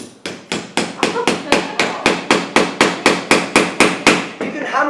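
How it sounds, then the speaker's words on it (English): Frozen, brittle rubber being hammered into wood during a live science show demonstration: about fifteen loud, sharp strikes in a steady, even rhythm, close by, each ringing briefly before the next blow. "you can hammer rubber into wood if you make the rubber cold enough"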